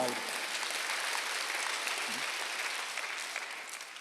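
Congregation applauding during a Korean Sunday church service, a dense steady wash of clapping with a preacher's voice over it, fading slightly toward the end.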